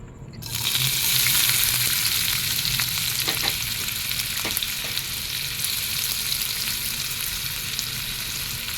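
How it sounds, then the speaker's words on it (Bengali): Chopped onion dropped into hot white cooking oil for begun bharta, bursting into a loud, close sizzle that settles into a steady frying hiss with occasional stirring clicks, no talk. "তেল গরম হয়ে গেছে। এতে আমি পেঁয়াজ কুচি দিয়ে দেব।"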